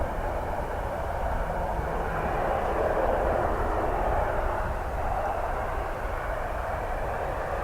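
An ATR turboprop at Dublin Airport on a crosswind day, its engine drone a steady broadband roar held at an even loudness throughout.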